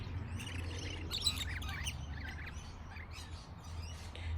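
Small parrots bathing and drinking at an evening bird bath chirp in quick, scattered bursts of high tweets over a low background hum, fairly faint and with no speech.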